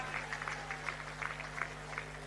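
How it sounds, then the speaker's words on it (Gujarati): Audience applause at a government tree-planting mission event at Science City, a steady, moderately faint patter of many hands clapping over a constant electrical hum. "આવો આ રેકોર્ડ બ્રેક ગ્રીન સફળતાને ફરી એકવાર જોરદાર તાળીઓના ગડગડાટ સાથે"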